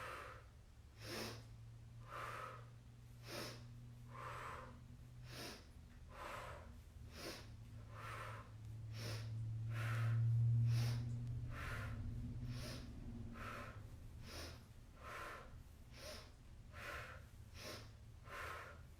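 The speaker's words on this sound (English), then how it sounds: "You inhale and you exhale." Quiet, sharp bursts of breath repeat at a steady rhythm roughly every second during a mat Pilates exercise, close and soft, with no speech over them.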